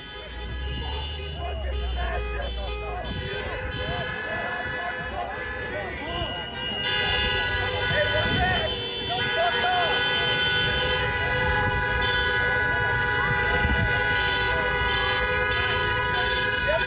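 Car horns honk repeatedly in a busy street scene, with long sustained blasts and shorter toots overlapping over a constant din of traffic and crowd noise.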